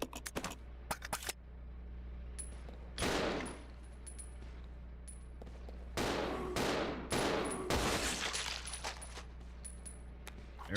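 Sharp bursts of gunfire from the survival horror video game Resident Evil Zero, several separate loud blasts and clusters of shots spaced across the span over a low steady hum.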